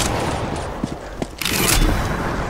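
Shotgun fire in Counter-Strike: Global Offensive, a few sharp blasts spaced unevenly over a dense, busy game soundscape, loud and close.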